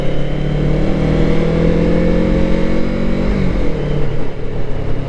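A Kawasaki Z650RS retro motorcycle engine revs loud and close, a steady mid-pitched drone with rising and falling throttle tones and no voices over it.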